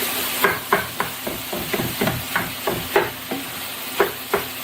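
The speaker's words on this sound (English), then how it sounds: "So I'm going to cook the hominy and the sausage together first." Hominy and sausage fry together in a pan, a constant greasy sizzle broken by about a dozen sharp scrapes and knocks as a utensil stirs them at a regular, unhurried pace, close and fairly loud.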